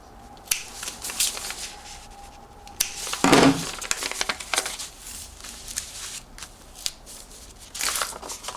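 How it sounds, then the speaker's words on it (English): Scissors make a few crisp snips through fabric while clipping the notches on bolero jacket pattern pieces, with small rustles and handling noises in between, close by and fairly quiet. "A little snip in the top, a little snip in the bottom."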